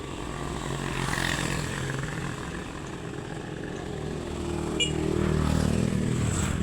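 A motorcycle engine drones steadily nearby at a grade 12 graduation gathering, swelling slightly louder as it passes, with no speech over it.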